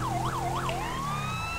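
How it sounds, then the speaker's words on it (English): A police car siren from an American sirens pack in the LSPDFR mod for GTA V wails in rising and falling sweeps, then shifts into a long steady tone, loud and close over a low engine hum. "Using our American Sirens pack."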